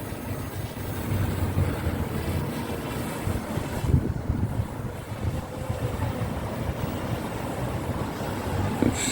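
Wind blows steadily around a JJRC X25 GPS drone flying high outdoors, a constant rough buffeting rush with brief gusty swells throughout, and no talking.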